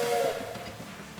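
A steam train whistle sounds briefly as a train arrives in the Railway Empire 2 video game, a short tonal blast fading into hissing, rumbling background.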